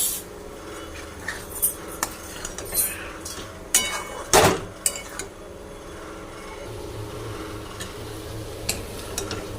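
Taro leaves cooked down with coconut and a little sugar in a pan, stirred with a utensil that scrapes and clinks against the metal in scattered bursts, over a soft low sizzle, with no talking.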